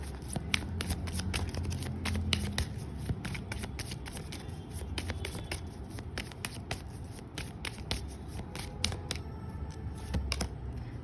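Tarot cards are shuffled by hand in a steady, continuous riffle of quick papery flicks and slaps, close and moderately loud, running alone without speech throughout.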